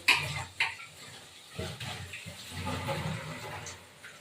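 Water is poured into mung dal cooking in a pot with a fish head, giving short splashing gushes and sloshing, fairly quiet and uneven, no voices.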